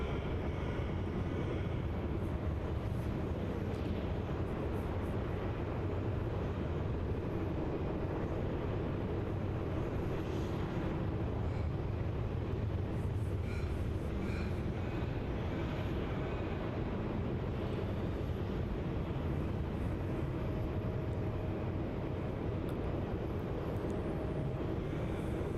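An Air New Zealand Boeing 777 on final approach and landing at Melbourne Airport, a steady broadband engine roar heard from a distance that holds for the whole stretch without a break.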